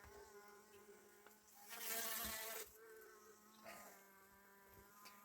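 Bees buzz steadily up close around a caged queen, a droning hum that swells louder for a moment as one passes near, then settles back.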